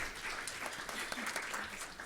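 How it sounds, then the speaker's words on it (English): An audience at a medical colloquium on prescribing exercise applauds its panelists with a dense, even round of clapping that holds steady at moderate volume for the whole stretch, with no voices over it. "So let's give our panelists another round of applause"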